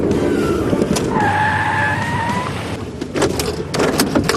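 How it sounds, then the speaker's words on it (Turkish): A car brakes hard and its tires skid with a long, loud squeal that rises in pitch and lasts for several seconds, ending in scattered thumps and clatter. "Ne bu frene bastın şimdi?"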